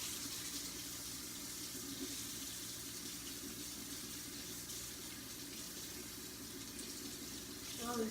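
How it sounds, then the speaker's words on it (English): A tap runs warm water into a sink, a steady, faint rushing hiss that carries on unbroken throughout. "Let me fill this up with warm water."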